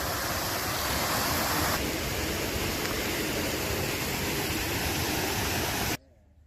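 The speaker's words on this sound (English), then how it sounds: "neat little waterfall exhibit." Steady rushing water from a small waterfall in a zoo exhibit, splashing continuously nearby, loud and unbroken before cutting off abruptly near the end.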